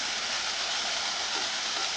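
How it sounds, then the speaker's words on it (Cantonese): Cucumber sprouts stir-frying with sauce and salt in a wok over high heat, a loud steady sizzling hiss throughout the brief moment, with no pauses. "大火炒一炒，加鹽"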